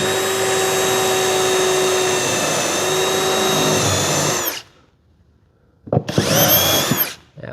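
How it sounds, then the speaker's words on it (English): A power drill bores through a CJ7 fiberglass firewall with a steady, loud whine for about four and a half seconds, stops into near silence, then starts again in a shorter burst. "Drill a hole in the center of this one so I can kind of remember it."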